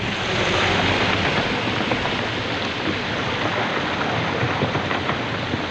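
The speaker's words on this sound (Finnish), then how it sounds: "No niin, pumppu laitettiin käyntiin." Water pump running at a highbanker gold-sluicing setup, giving a loud, constant close-up rush of churning water and motor noise with no pauses or talk.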